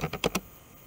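Four quick keystrokes on a computer keyboard, close and crisp, clustered in a short burst and then quiet.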